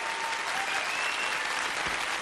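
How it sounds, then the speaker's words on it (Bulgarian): Brief burst of audience applause for a pantomime dance performance on a TV talent show, dense even clapping from a crowd with faint voices mixed in. "Аплодисменти, дами и господа, за фантастичния Алфредо."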